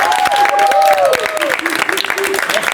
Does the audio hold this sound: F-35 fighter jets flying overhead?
no